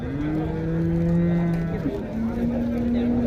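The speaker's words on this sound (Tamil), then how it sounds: "இதெல்லாம் காங்கேயம் மாடு." Kangayam cattle at a Tiruppur cattle market low in long, sustained moos, one tone sliding and breaking before a second steady call, loud and close against a busy outdoor background.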